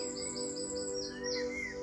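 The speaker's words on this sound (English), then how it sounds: "A blackbird singing from the top of a tree in an attempt to attract a mate" A blackbird sings from the top of a tree, its clear, fluting phrases repeating in quick succession and rising and falling, close and fairly loud against a quiet background.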